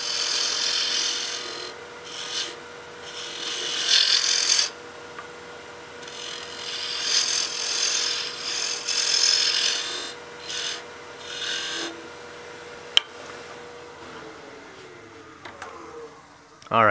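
A wooden baby rattle handle spins on a lathe while a turning tool scrapes it down to reduce the diameter, giving a steady rasping cut in uneven bursts that goes quiet near the end.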